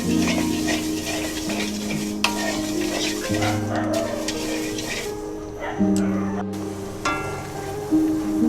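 Sugar and water heating in a pot into syrup, a soft bubbling, sizzling simmer with occasional stirring scrapes and clinks under background music and a voice talking.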